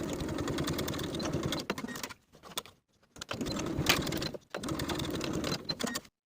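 Sewing machine stitching fabric shoulder seams, close whirring bursts that stop twice with brief pauses between runs, fairly loud and alone.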